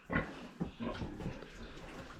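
Landrace sows grunting on a pig farm, a few short, low, close grunts and snorts in quick bursts over quiet barn background.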